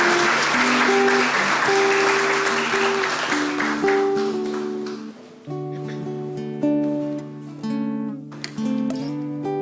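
A municipal council chamber audience claps during an ordinary session honouring a resident. Dense applause fills the first few seconds over music, then fades as the music carries on alone.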